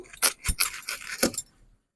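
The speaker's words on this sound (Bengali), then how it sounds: "দেখো তরমুজটা কাটছি" A watermelon being cut with a knife in a kitchen while making watermelon juice, heard as several short, crisp cutting and knocking sounds at close range with no talk.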